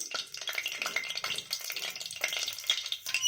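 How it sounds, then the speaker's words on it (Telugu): Mustard seeds hit about three tablespoons of hot oil in a pan, giving a busy crackling sizzle with sharp pops and stirring scrapes, close and lively without any voices. "మూడు టేబుల్ స్పూన్స్ ఆయిల్ ఆయిల్ వేడకగానే ఇంకా కొన్ని ఆవాలి"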